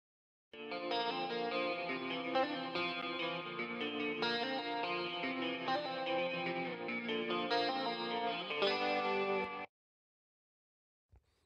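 Guitars drenched in Waves guitar amp plugins play a dense, sustained, distorted passage with wide panning and swirling chorus-like texture, holding steady for several seconds before stopping cleanly.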